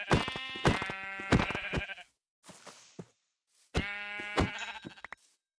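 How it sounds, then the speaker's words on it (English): Sheep in Minecraft bleat in a run of quick, reedy, wavering calls, pause briefly with a few soft thumps, then bleat again, loud and close. "Then we need to find another sheep."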